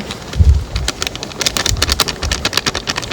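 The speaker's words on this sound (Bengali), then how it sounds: "দেখো বৃষ্টি আসছে দেখো তাই তো বিশাল বৃষ্টি আসছে" Heavy rain arriving outdoors on an island during an open-air cooking session, a dense steady hiss of falling drops with a few low rumbles, close and continuous, no talk.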